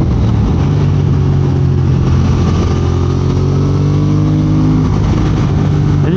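A Triumph Speed Twin motorcycle on the move, its engine a loud, steady, close drone with smooth rising and falling pitch and constant wind rush and no talk over it.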